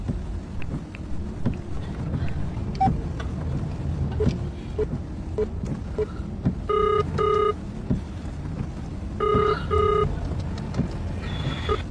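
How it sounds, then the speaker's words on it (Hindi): A phone being dialed sounds electronic tones in two pairs of short beeps, separated by a few seconds, over a low background rumble and scattered clicks. "मैं अभी राहुल को फोन करती हूँ।"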